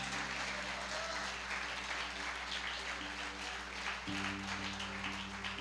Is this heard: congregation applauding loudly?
yes